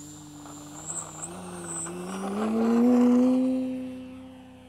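An EF Slick 70-inch electric RC plane on a 6s power system takes off, its motor whining with a rising pitch that swells in loudness as it climbs, then fades gradually as the aircraft pulls away.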